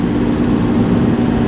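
A camper van's 2.8-litre engine climbs a hill, giving a loud, constant low droning hum with no voices.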